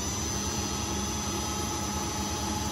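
An Emco lathe retrofitted with a VFD runs its spindle forward near 1500 RPM, giving a steady, continuous motor hum with a broad whir and a faint high whine, alone with no talk.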